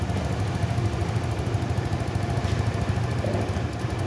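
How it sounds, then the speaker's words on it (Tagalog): Motorcycle engine idling steadily after its ECU was reinstalled, a low even rumble close by with constant level and no talk. "Maganda ang idle niya."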